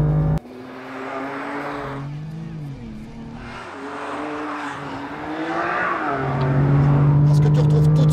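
A BMW M4 CS on a race track, its engine note steady and strong, dipping and climbing in pitch before swelling louder near the end.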